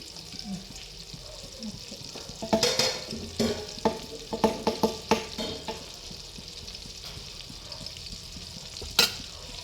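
Oil and butter sizzle with cumin seeds in a pan, a soft steady fry broken by a cluster of sharp clinks and scrapes of stirring, with a voice briefly present.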